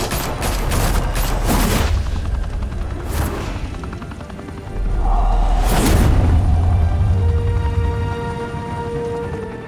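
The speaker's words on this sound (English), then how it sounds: "There's 3 of them shooting at Batman, and none of them hit him" Police gunfire aimed at Batman in the Telltale Batman game, bursts of rapid shots over a droning helicopter rotor, with a louder rumbling surge midway and scattered cracks fading into the engine hum.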